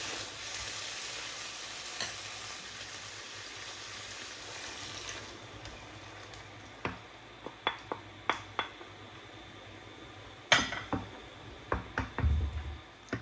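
Mushrooms and bacon frying golden in a pan for carbonara: a soft sizzle at first, then fading under a series of sharp utensil taps and knocks against the pan.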